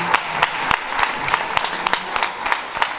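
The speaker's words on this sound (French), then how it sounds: "Allez, on les applaudit" Club members clap at a season-launch evening after thanks to the staff, a light scattering of hands with sharp individual claps standing out over steady background noise, fairly close and lasting throughout.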